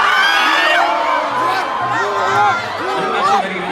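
A concert crowd at a live show at Dubai Expo 2020 shouts, whoops and cheers loudly and continuously over a sustained musical tone.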